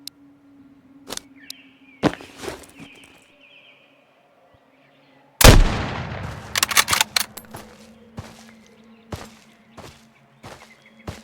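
Gunfire in the survival shooter Road to Vostok: scattered single shots crack out, then a loud close burst of several rapid shots around the middle, followed by more sporadic reports and a lingering tail, with no talking.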